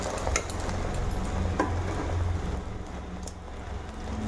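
Egg frying in a pan for a potato omelette gives a steady, close sizzle with scattered light crackles and pops, continuous throughout without talk.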